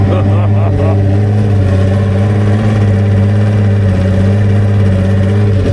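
A two-stroke engine runs steadily while burning oil and smoking after winterization, a loud continuous drone with a raspy, buzzing tone. It stays constant throughout with no talk over it.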